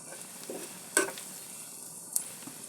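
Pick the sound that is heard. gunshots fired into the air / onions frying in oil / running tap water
onions frying in oil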